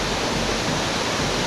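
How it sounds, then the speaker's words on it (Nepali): Water flowing down a stream below Batise waterfall in Panchthar, Nepal, a steady, dense broadband rush with no breaks, close and continuous. "बत्तिसे झर्नाबाट बगेको पानी चाहिँ यहाँ आउने रहेछ."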